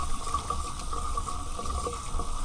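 A tap runs steadily into a sink while dishes are washed inside a campervan in Iceland, a close, continuous stream of water with faint clinks.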